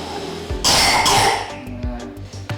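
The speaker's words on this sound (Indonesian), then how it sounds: "Nah, ini anaknya batuk ya ini ya." A child coughs in a few sharp, close bursts with some throat clearing, loud and abrupt with brief gaps between fits.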